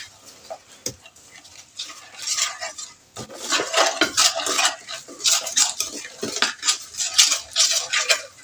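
A utensil clinks and scrapes against a bowl as eggs are mixed with salt, red chili and spices, rapid irregular tapping and whisking that grows busier after a short pause, close and fairly loud.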